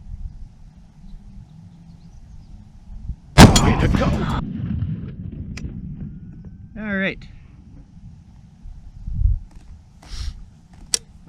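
A single .50 caliber rifle shot fires with a sharp, loud crack and a long rumbling tail during zeroing at a range, followed by scattered handling noises and people talking.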